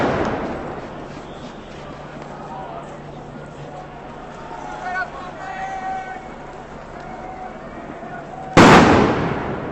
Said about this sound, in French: ces grenades de désencerclement sont très violentes, hein, parce que il y en a une qui vient de péter